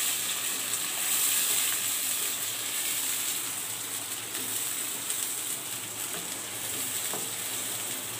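Chopped onions sauté in hot oil in a pan while cooking black chickpea vada curry, giving a steady, close, continuous sizzle and crackle with no talking.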